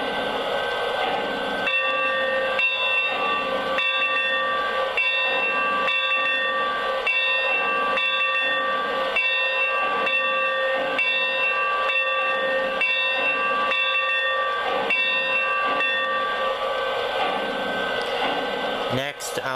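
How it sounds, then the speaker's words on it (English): A Lionel Legacy AT&SF Northern 3757 model steam locomotive rings its bell in a steady, evenly spaced rhythm for about twenty seconds, loud and close, over a constant background hiss. "first thing I'll do is play the bell."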